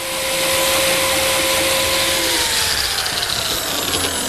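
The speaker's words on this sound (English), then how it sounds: "To reinforce the miter joints, I'm cutting slots for these number 0 biscuits." Biscuit joiner cutting slots for No. 0 biscuits in walnut miter joints, a loud, high motor whine that spins up quickly and holds steady through a short cut.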